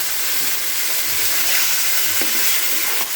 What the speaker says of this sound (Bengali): এটাকে খুব ভালো করে একটু নাড়াচাড়া করে কষিয়ে নিচ্ছি